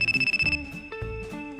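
A telephone rings in a steady rapid electronic trill, a short burst of quick pulses followed by a held tone and another ring starting, fairly loud and alone with no talk.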